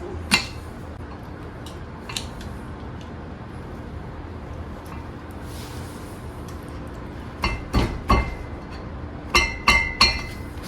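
Metal tabs of a tab washer on the propeller nut of a Mercury four-stroke outboard engine are bent flat. Scattered sharp metallic clinks and taps build into clustered knocks near the end, and no one speaks.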